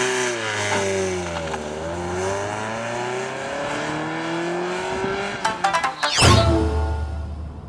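Toyota MR2 Mark II driving, its engine note rising and falling through revs with gear changes, then a sharp burst and louder, closer roar near the end; no talking.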